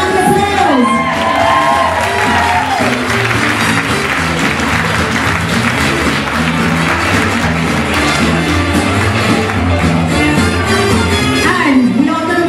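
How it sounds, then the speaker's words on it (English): Loud crowd applause and cheering at an outdoor body-paint parade, continuous clapping with whoops and shouts, including children, and a few voices carrying over the roar throughout. "Give her a round of applause."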